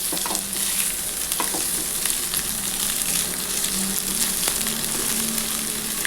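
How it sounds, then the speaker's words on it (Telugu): Egg and masala mixture frying in a pan for masala noodles, with a steady dense sizzle and stirring scrapes throughout, close and fairly loud, with no talking. "ఇది ఒక్కసారి అంతా ఫ్రై చేసుకోవాలండి మనము"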